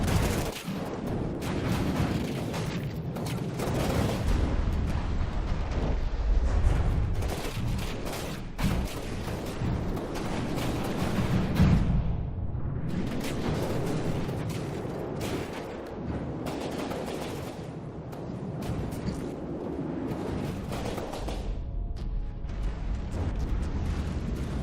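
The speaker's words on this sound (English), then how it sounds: "Chain detonation so severe it actually takes out the base as well as the primary. It's quite an intense explosion." In the video game From the Depths, a chain detonation destroys a base in a long, loud, dense roar of overlapping blasts and gunfire-like bursts that rumbles on without a break.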